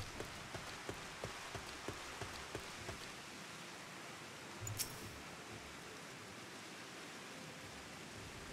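Steady rain in a video game hisses evenly throughout, with a few soft drop ticks early on and a brief louder clatter near the middle.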